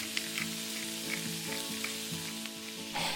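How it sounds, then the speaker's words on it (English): Shrimp dropped into very hot oil for shrimp fried rice, giving a continuous, fairly soft sizzle with small crackles and pops scattered through it, close and without talk. "Once the oil gets very hot, I'm going to dump in some shrimp."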